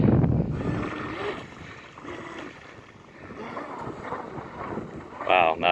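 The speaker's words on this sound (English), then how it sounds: "a little windy out here" Wind blows outdoors beside the water where a vintage RC boat is being driven, buffeting the microphone in uneven gusts that rise sharply near the end.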